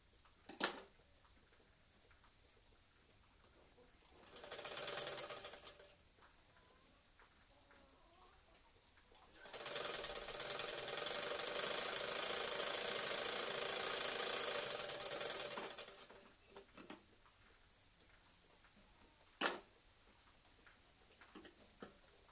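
A sewing machine stitching narrow and wide fabric strips runs in two bursts: a short whir of about a second, then a longer steady buzzing run of about six seconds, with quiet handling noises between and after.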